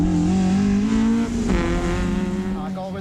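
A Camaro and a Miata launch from the start of a drag race, their engines roaring loudly and close with a strained, droning tone as they accelerate away.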